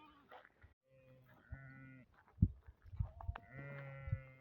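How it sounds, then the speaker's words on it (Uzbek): Sheep with young lambs bleat across a flock outdoors, several overlapping calls of varied pitch, some near and some farther off, quiet overall with a few sharp louder cries. "Qo'zisi bor ko'p, xola 24 ta qo'zili qo'y kelgan."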